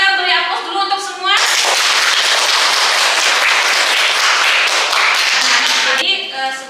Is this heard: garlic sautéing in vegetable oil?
no